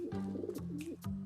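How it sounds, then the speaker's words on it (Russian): Pigeons coo close by in a series of low, soft, throaty calls, two or three rolling phrases in quick succession. "Чем же интересны голуби?"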